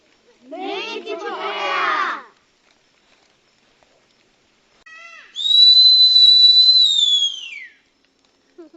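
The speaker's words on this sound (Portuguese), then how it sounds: "Que apito estridente é esse?" A loud, shrill whistle in a Guarani educational theatre performance sounds as one long, piercing, steady blast that rises in and fades out, following an earlier burst of voice-like sound and then silence.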